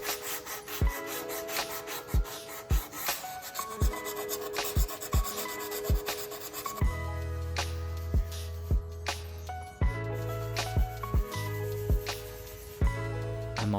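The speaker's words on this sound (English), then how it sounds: "My plan with them is to sand off the original finish and stain them black." Old finish being sanded off roadside wooden chairs, with repeated rhythmic rasping strokes and sharp knocks against the wood, close and clear over faint background music.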